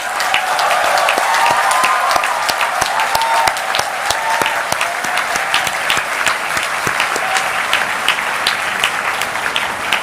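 Loud, sustained applause from graduates at a university convocation in Nagpur, a steady roar of many hands clapping close and continuous throughout, with no speech over it.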